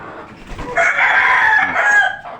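A three-month-old hen that has already begun laying eggs calls out close by, a loud drawn-out crow-like squawk lasting a couple of seconds, preceded by a few soft clucks.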